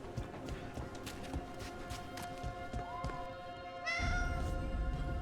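A cat meows in the video game Dragon Age: The Veilguard, with one drawn-out rising meow near the end. Footstep-like taps and ambient game sound run underneath.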